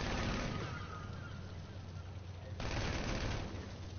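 Rapid automatic gunfire in the Halo video game rattles continuously as a salute, a dense, loud, unbroken burst with a brief change partway through, recorded with compressed, harsh game audio.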